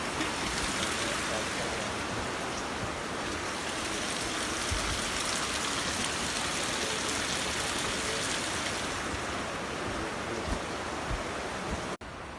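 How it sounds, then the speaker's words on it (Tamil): Heavy rain pours down in Sadhana Forest as a dense, steady hiss. It stays loud and constant throughout with no voices, then cuts off sharply at the very end. "வெளியே பயங்கரமாக மழை பெய்யுது."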